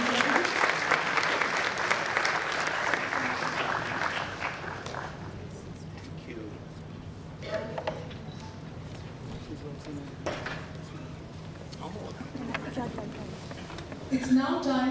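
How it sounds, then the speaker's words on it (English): Audience applause at an awards ceremony, a sustained burst of clapping from a large crowd that swells, then thins into scattered claps, with a voice speaking near the end. "Let's have a huge round of applause"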